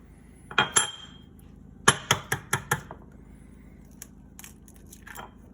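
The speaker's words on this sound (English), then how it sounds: "crack your eggs into a separate bowl to make sure they are not rotten" Two eggs cracked into a separate bowl while preparing a chocolate sheet cake, giving sharp close crunches and taps: one burst of cracks early, then a rapid run of several knocks and clicks, followed by faint scattered clatter.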